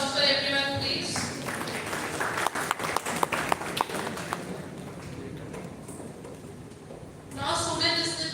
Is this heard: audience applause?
yes